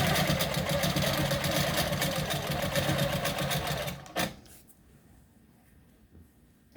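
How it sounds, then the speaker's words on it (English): Long arm quilting machine stitching binding through three quilt layers, a fast mechanical rattle that runs steadily for about four seconds, then stops abruptly into near silence. "So you just go ahead and sew all 3 layers."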